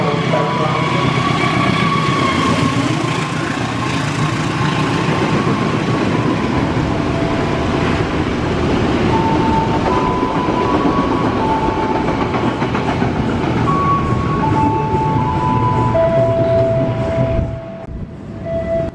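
A train passes straight through a station on track 4 from the east, a loud continuous rumble and wheel clatter with rising squeal tones, dropping away abruptly near the end.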